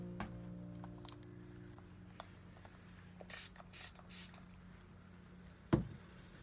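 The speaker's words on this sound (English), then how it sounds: "the Prep and Prime, I'll spray my face first" A few quick hissing bursts of face mist spray close by in a quiet room, followed by a brief knock near the end.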